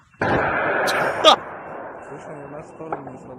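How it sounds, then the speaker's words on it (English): A sharp, loud blast opens, followed by a second crack and rumbling decay, with voices talking faintly underneath. "listen to the explosions."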